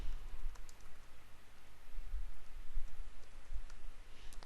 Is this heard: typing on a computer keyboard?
yes